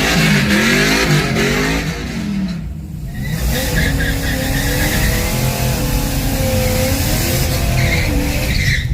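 Car tires spin and squeal at a drag race launch during a Friday night run-what-you-brung session at Xtreme Raceway Park, a loud engine revving with screeching rubber and a brief dip midway, heard close.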